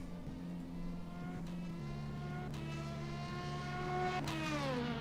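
LMP2 race car engines at Spa in a racing video game, a continuous roar with shifting, rising and falling engine pitches and several quick gear-change sweeps, moderately loud and without speech.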